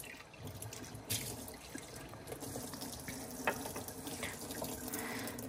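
Water pours steadily from a Sanwa RW8 alkaline ionized water purifier at about two litres flow, a soft continuous splashing stream into a sink with faint drips, alone and fairly quiet.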